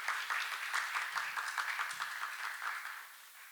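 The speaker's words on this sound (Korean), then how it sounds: "모두 큰 박수로 환영해 주시기 바랍니다." Audience applause at an international martial arts academic seminar, welcoming a speaker to the front: dense, steady clapping from a crowd in a hall, moderately loud, fading slightly toward the end with no talk over it.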